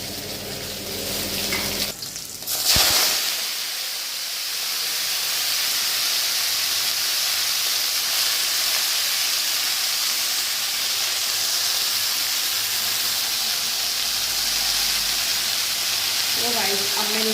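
Cumin, asafoetida, green chillies and fenugreek fry in hot oil with a loud, steady, close sizzle that holds to the end, after a short clatter near the start.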